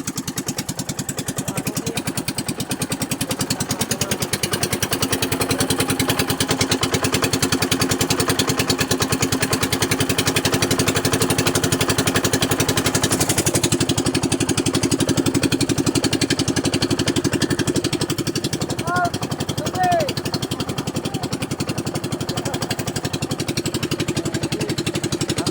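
A steady engine drones continuously at close range, a mid-pitched idling rumble with a slight shift partway through.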